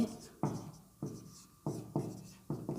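Chalk or marker strokes on a board come in six quick, distinct bursts with short pauses between, close and fairly faint in a quiet room.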